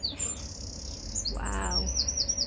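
Birds singing at a marina on a summer day, with repeated bright chirps and trilling phrases over a low background rumble, fairly close and clear with no talking.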